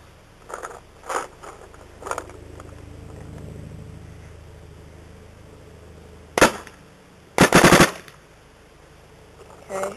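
A paintball marker set to uncapped semi-automatic fires outdoors, with a few scattered single pops followed later by a quick, loud burst of rapid shots, over a low background hum.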